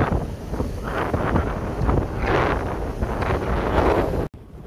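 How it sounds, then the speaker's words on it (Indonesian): Strong 16-knot wind buffets the deck of the ship MV Barito Mas during unberthing, a loud, steady roaring rush with gusty swells that cuts off abruptly at the end. "suara anginnya agak kencang lor karena kecepatan angin bertambah lagi menjadi 16 knot"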